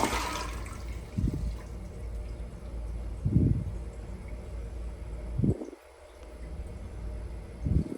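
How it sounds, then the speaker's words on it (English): A Zern toilet flushes in a hotel bathroom in San Antonio, with a continuous close rush of water, a few gurgling surges and a brief gap before the bowl refills. No one speaks. "I'm gonna flush it just for you commode fans."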